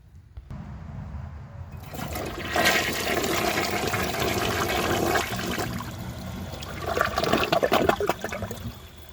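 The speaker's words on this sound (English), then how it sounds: "So I will show you guys a flush, and then let's see how it does on tests." A 1998 Western Pottery Clinton toilet flushes close by with a loud rushing swirl of water, then gurgles and trickles as the tank refills, without any speech.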